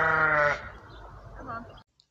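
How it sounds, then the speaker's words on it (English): Sheep on a farm bleat close by in a loud, wavering cry for about half a second, followed by fainter rustling and a softer second call before it cuts to silence. "My sheep, they know my voice."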